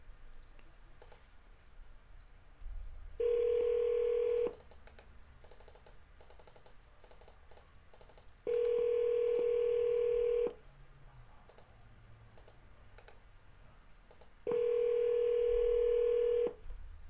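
A telephone call is placed, with faint keypad beeps and clicks followed by three long, steady ringing tones spaced a few seconds apart.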